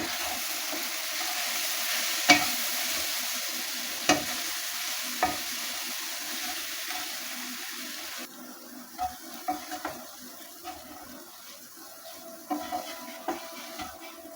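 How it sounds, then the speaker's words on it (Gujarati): Steady stirring of a thick gram flour mixture in a pan, with soft scraping and occasional sharp knocks of a spoon against the side, no voices. "હવે આપણે મિક્સ કરી લઈએ"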